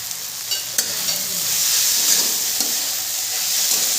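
Vegetables fry with garam masala for a navratna dal, giving a steady close sizzle with occasional soft scrapes of stirring.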